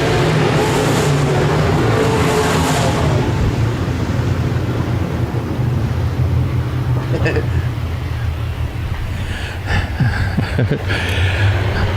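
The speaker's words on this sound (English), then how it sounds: "He's got that Billy Moyer victory race car hooked up and hauling the mail." Modified race cars roar continuously on the dirt track at Park Jefferson Speedway at close range, with revving and passing surges, while a race announcer talks over the loud motor noise.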